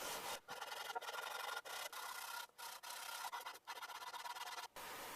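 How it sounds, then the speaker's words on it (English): Sandpaper scrubs heavy rust and pitting off the lever cap of a Vaughan and Bushnell 804 hand plane in steady back-and-forth strokes, a close, continuous rasp broken by brief pauses. "I tried to clean up the lever cap, first removing the heavy rust and pitting with sandpaper."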